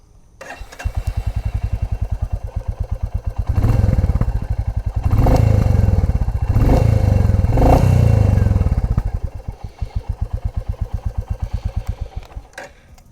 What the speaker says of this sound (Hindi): Royal Enfield has worked on the exhaust, on the timing of this engine to give it that additional beefy thump.